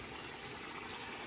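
Hot water pours in a steady gush into a pot of rice with pigeon peas, green peppers and green plantain, a short, close, continuous liquid rush with no talking.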